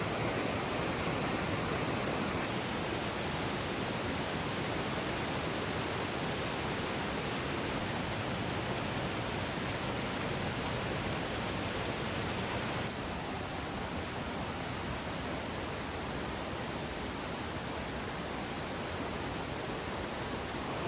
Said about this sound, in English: you start to hear the roar of Indian Camp Creek in the distance